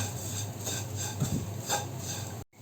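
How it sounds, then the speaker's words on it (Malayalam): Garlic pickle mixture with asafoetida stirred in a pan for Kerala-style pickle, a steady soft scraping and stirring with faint metallic clinks, close and continuous, ending with a brief cutoff. "അതും നമുക്ക് നന്നായിട്ട് ഇളക്കി യോജിപ്പിച്ച് കൊടുക്കാം"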